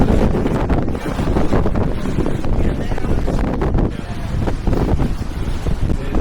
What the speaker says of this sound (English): Kind of breezy out, ain't it?